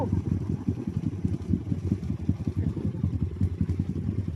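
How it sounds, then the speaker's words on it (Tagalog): A motorcycle on an enduro trail in Palawan rumbles at low, steady volume, its engine pulsing rhythmically and sounding fairly distant, with no voices heard. "May motor man doon sa harapan."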